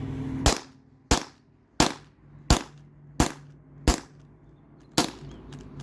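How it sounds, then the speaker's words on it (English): A Beeman BP50 pre-charged pneumatic air pistol fires seven sharp, loud cracks at an even pace of about one every 0.7 seconds, each shot decaying quickly over a low background hum. "I got like 7 more shots out of my Beeman BP50"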